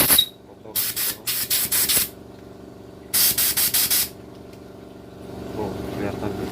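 Short bursts of pressurized spray hiss loudly in two clusters of quick blasts, cleaning dirt from the carburetor of a ketinting boat engine, with quieter workshop noise in the gaps.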